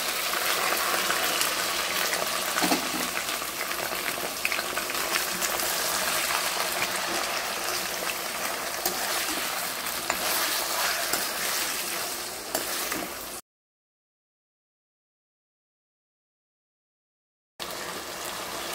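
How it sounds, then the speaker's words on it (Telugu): Chicken sizzles steadily in hot oil with browned onions in a pan, a loud continuous hiss that cuts off abruptly into silence before resuming. "చూస్తున్నారు కదండి చికెన్ అయితే మంచిగా ఫ్రై అవుతుంది"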